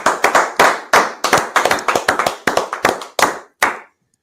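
A small group claps in irregular bursts, sharp close hand claps in quick clusters with brief gaps, ending abruptly before a moment of silence.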